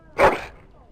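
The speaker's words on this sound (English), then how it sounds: "That is a wonderful dog." A single short, loud bark from a dog in the Dragon Age: Origins video game at Castle Cousland, followed by a quiet tail-off.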